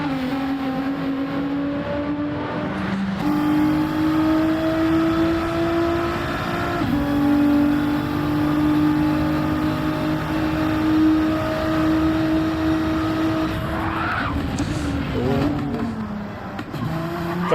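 GT3 Cup race cars, including a Nissan, run a flying lap in a racing video game: a loud, continuous engine whine climbs through the revs, with gear shifts and a fade as another car passes.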